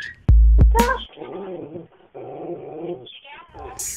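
A guide dog growls low and whimpers in drawn-out, voiced bursts that come close and loud, with a sharp snap near the start.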